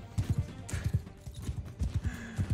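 Rapid rhythmic hoofbeats of a horse galloping into a battle charge in Mount & Blade 2 Bannerlord, loud repeated thuds in quick bursts with faint whinny-like sounds.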